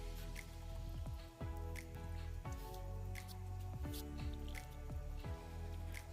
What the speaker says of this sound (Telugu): ఇప్పుడు నేను జస్ట్ అలా వాటర్ స్ప్రింకిల్ చేస్తున్నాను వాటి మీద